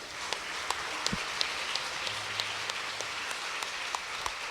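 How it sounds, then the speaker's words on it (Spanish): Applause during a Sunday church service: a soft, steady patter of many hands clapping, faint and even, with a few sharper claps standing out. "Un aplauso al Señor."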